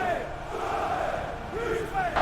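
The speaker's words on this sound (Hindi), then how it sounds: "भीड़ चिल्ला रही थी, उसे सूली दो" A crowd shouting "crucify him" in an animated documentary about Jesus, a dense, sustained mass of raised voices with a few individual cries rising above the roar.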